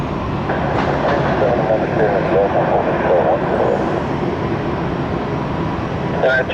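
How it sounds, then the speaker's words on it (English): Jet airliner taking off from runway 19 right at Tampa, a steady loud engine roar filling the scene throughout, with radio chatter underneath. "runway 19 right, clear for takeoff"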